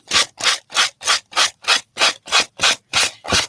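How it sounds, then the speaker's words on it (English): Eleven even back-and-forth rasping strokes of a sanding block on a bookbinding surface, loud and close with a steady rhythm. "let's just take a sanding block"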